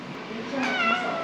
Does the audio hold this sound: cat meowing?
yes